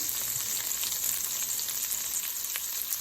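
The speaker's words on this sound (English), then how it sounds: "get those sauteing all nice and wonderful there" Zucchini and other vegetables sauté in a pan with a steady, close frying hiss and faint crackles, continuous and without talk.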